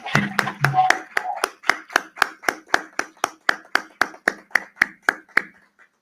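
At a symposium opening, hands clap in a steady, even rhythm close by, beat after beat, tapering off toward the end, with a brief voice near the start.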